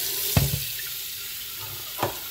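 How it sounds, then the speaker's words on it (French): Water poured over the lid of a Thermomix TM6 kitchen machine, a soft steady running splash with two brief louder gushes near the start and near the end, fairly faint and close. "je verse l'eau sur le couvercle directement"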